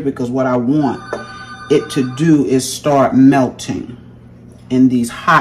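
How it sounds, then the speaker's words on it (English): An electronic telephone rings repeatedly in a home kitchen during Christmas dinner cooking, a steady warbling tone running beneath continuous nearby talk. "I'm sorry about the phone"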